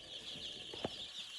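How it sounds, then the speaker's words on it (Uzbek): Young chicks under a heat lamp peep softly and continuously, with one brief louder cheep in the middle, all faint and without talk. "Mana jo'jalarimiz."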